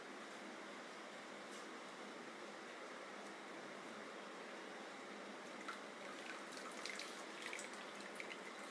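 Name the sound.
tap water running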